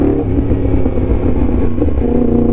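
A Yamaha MT-10 SP motorcycle engine revs loudly up close, a deep, throaty rumble held at high throttle without a break.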